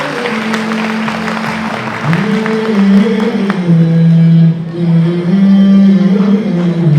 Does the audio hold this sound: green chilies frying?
no